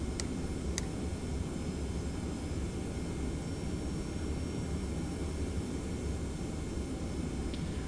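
Boeing 717 jet engines spooling up for takeoff in a flight simulator, a steady broadband roar that holds loud and constant throughout, with a couple of faint brief clicks early on.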